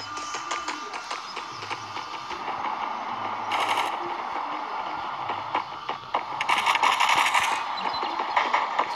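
Rapid gunshots in a first-person shooter video game, short clustered bursts of rifle fire at moderate loudness with a steady background hum and no talk.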